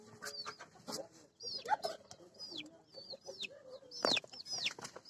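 Hens and chicks in a village coop give soft clucks and thin high peeps in irregular bursts, fairly close but quiet.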